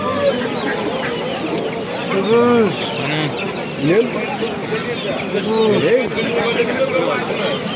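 Roosters and chickens at a busy poultry bazaar in Namangan cluck and call repeatedly close by, with crowing mixed into the din as people talk and haggle over the birds.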